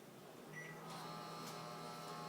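A microwave oven runs with a faint, steady hum while melting peppermint candy, its drone building slightly after a soft click and a couple of brief beeps, with no talking.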